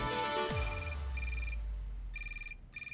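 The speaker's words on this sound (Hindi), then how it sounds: "फोन उठा ऐसा कह रहे हैं हम।" A telephone ringtone in a household scene from a comedy series, bright repeated electronic trills in short bursts over a low musical drone, with no talking.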